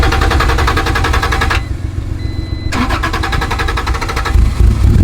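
A 1991 Acura NSX engine cranking and catching, loud and close: rapid rhythmic cranking, a brief drop, then the engine fires and settles into a steady, rough running idle.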